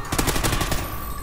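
Rapid automatic gunfire from the video game Call of Duty Ghosts on PS4, a loud, dense burst of close shots in quick succession that continues steadily.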